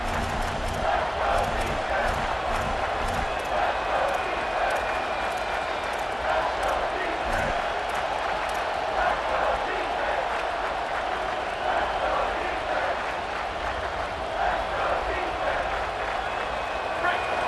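A roaring football stadium crowd at Nebraska versus Oregon keeps up a loud, continuous wash of cheering and noise throughout, with a commentator talking over it.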